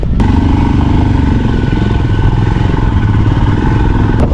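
Motorcycles on a rough Zanskar Valley mountain trail with a water crossing, loud close engines chugging and revving steadily with some clatter, no talking.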